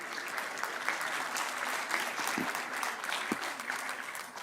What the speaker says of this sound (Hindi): मैं जोरदार तालियों के साथ उनके स्वागत के लिए आपको